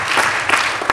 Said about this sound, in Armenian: ուզում եմ բարձր ծափարենք